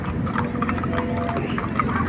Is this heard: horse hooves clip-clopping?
yes